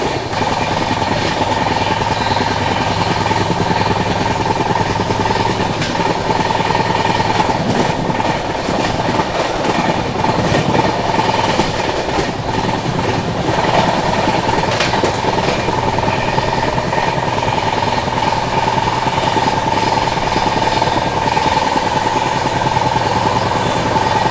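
The Poorvottar Sampark Kranti Express rolls toward Kanpur station in scorching heat, a loud, steady rumble with rhythmic clickety-clack of wheels over rail joints running throughout, heard close from on board.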